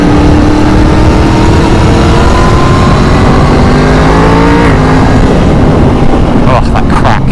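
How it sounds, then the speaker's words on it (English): Yamaha MT-10 motorcycle engine and exhaust revving steadily under loud wind, with pitch rising through a gear, a sharp crack at the shift and a few pops near the end; a voice speaks over it. "Oh, that crack when you change gear. God, it sounds good."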